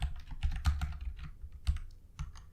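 Rapid, uneven keystrokes on a computer keyboard as code is typed, close and fairly quiet, with no voice over the clicking.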